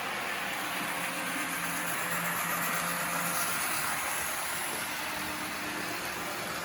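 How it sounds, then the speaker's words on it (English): A Kato SD45 model locomotive with an older all-metal gear drive runs steadily, giving a continuous whirring, grinding mechanical hum that stays close and even, with no talk. "Being one of the older drives with all metal gearing, it's a bit noisy compared to what you could get from them now."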